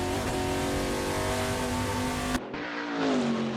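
A Holden VH Commodore touring car in Assetto Corsa at Morgan Park Raceway screams at high, sustained revs, then cuts abruptly and resumes with the engine note sliding lower.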